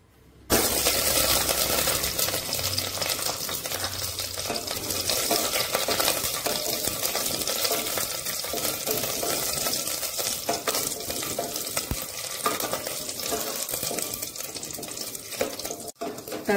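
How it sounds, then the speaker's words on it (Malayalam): Tomato frying in hot oil for mackerel fish curry, a loud, continuous sizzle that holds steady from start to finish, close up and with no talking. "എണ്ണ ചൂടായി വരുമ്പോൾ ഇതിലേക്ക് ഒരു തക്കാളി ചേർത്ത് കൊടുക്കാം."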